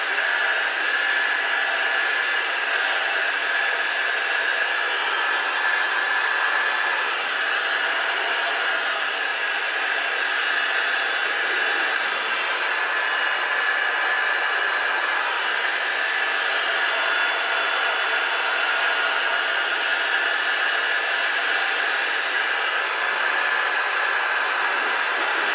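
Heat gun blowing a steady, even hiss at close range while warming a bearing for a Lambretta TV 175 build, continuous and unchanging for about 25 seconds with no talk.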